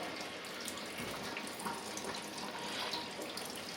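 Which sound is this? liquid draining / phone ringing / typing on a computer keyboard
liquid draining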